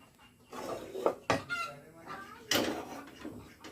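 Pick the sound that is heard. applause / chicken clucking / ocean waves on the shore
chicken clucking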